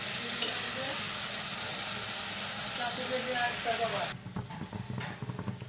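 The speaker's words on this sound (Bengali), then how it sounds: "একটু কষিয়ে নেব।" Spice paste fries in a pan while cooking hilsa fish with tomato, giving a loud, dense hiss that cuts off abruptly, followed by quieter crackles and stirring scrapes close by.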